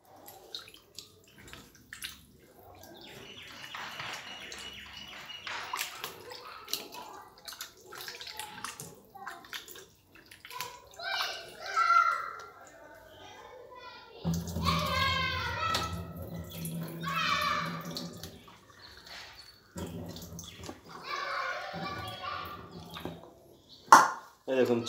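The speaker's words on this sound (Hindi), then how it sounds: "देख चिकेन धुआ हो गला हलदी पानी रे।" Half a kilo of raw chicken is washed by hand in turmeric water in a bowl for a mango chicken dish, with splashing, sloshing water and light clinks of a dish, along with intermittent talk nearby.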